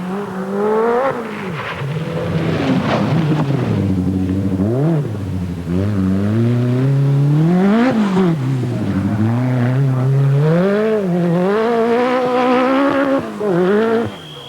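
Rally cars on a 1986 RAC Rally special stage, including Marco Alén's Lancia, roar loudly nearby, engine revs repeatedly rising and falling in sweeping bursts for the whole stretch without any talk.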